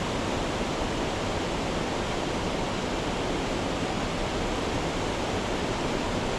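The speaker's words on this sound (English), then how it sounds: "we're gonna come back to this little waterfall thing" A small waterfall on a trout stream pours in a dense, unbroken rush of white water that fills the whole stretch at steady loudness.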